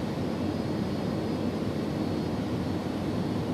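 Airbus A300-600R freighter jet engines in the X-Plane 11 flight simulator, on approach into Dublin runway 28 left, give a steady, unbroken broadband drone that stays loud and even throughout with no talking.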